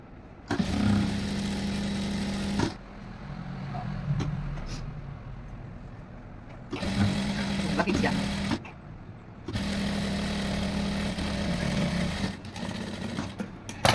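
Sewing machine stitching the hem of a pair of pants, with three long whirring runs of steady motor hum and needle chatter broken by short quiet pauses between them, close and fairly loud.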